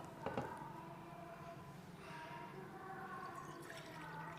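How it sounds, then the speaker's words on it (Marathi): Water pours steadily into a container of jowar flour for several seconds, a soft continuous splashing with a brief clink near the start and no speech. "आता याच्यामध्ये आपण 1 कप पाणी टाकत आहोत"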